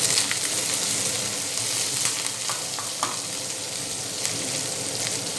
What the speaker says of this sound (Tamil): எண்ணெய் ஊற்றி கொஞ்சம் தாளித்து விட்டுக்க போகிறோம்.